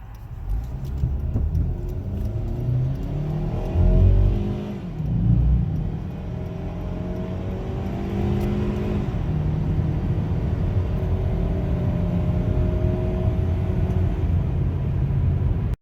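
A 2013 Hyundai Sonata engine revs up hard from 0 to 80 mph, its pitch climbing through several gear shifts, then settling into a steady, loud drone at speed.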